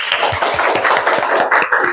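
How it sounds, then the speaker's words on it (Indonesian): A secondary-school class of students bursts into applause in a classroom, many hands clapping together in a dense, fairly loud patter that continues steadily for a couple of seconds, heard close with no talking over it. "Beri tepuk tangan untuk kelas 10"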